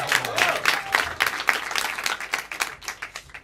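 Audience at an improv theatre festival in Paris claps for a pianist, a lively burst of many hands with clearly separate claps, fairly close, tapering off by the end.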